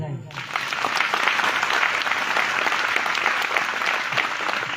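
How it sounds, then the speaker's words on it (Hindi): Church congregation breaks into applause during a sermon, a dense sustained round of clapping that starts abruptly after a brief moment and continues evenly, fairly loud and close. "सभी प्रभु यीशु मसीह यहोवा परमेश्वर के लिए तालियां बजाएं।"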